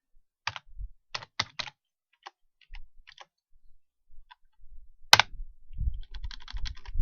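Computer keyboard typing in short bursts of clicks with pauses between, then a louder clack followed by denser, continuous keystrokes, close and alone.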